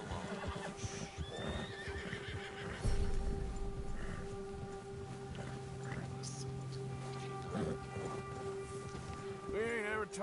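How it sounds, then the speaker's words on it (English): A video game horse, agitated by a nearby predator, neighs and snorts in several bursts through the stretch, with hoof movement and a patter like rain in the background. "Quando um predador está perto do seu cavalo, fica agitado, segura o 3 para acalmá-lo."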